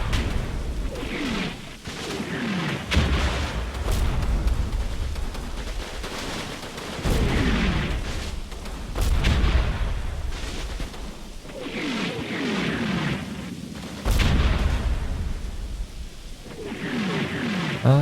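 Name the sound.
artillery shells exploding in Combat Mission video game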